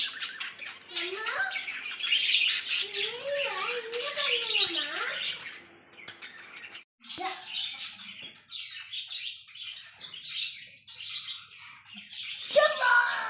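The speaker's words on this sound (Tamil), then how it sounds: "நம்ம பார்த்துக்கிட்டு இருக்கிற பறவை லவ் பேர்ட்ஸ்" Lovebirds chirp and squawk nearby in bright, busy bursts and warbling calls, with a voice and other talk mixed in among the birdsong.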